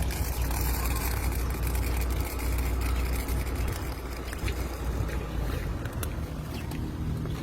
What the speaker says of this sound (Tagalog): Ayan, buhos tayo rito ng balas.